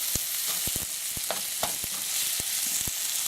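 Sliced onions coated in oil fry in a pan, a steady bright sizzle broken by sharp crackles and spits scattered throughout, close and fairly loud with no voices.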